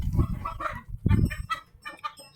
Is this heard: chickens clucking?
yes